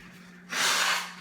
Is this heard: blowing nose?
yes